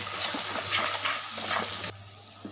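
Cabbage curry sautéed with turmeric and salt in a pan, a steady close sizzle with stirring scrapes that drops off sharply near the end, leaving a faint hum and one small clink.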